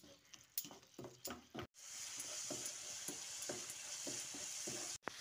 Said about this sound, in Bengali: এবার মশলাটা খানিকক্ষণ কষিয়ে নিতে হবে।